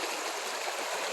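A creek flows steadily close by at a portage trail near a lake, a continuous broadband rush of moving water with no pauses for the whole stretch.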